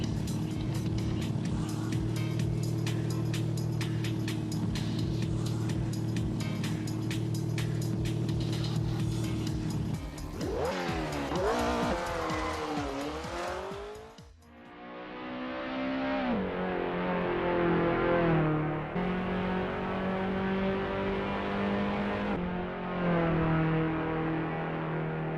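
A rally car in the Assetto Corsa driving game roars at high speed, its engine holding a steady drone, then climbing and dropping through gear changes before settling into another loud sustained run, with no talk.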